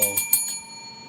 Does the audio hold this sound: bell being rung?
yes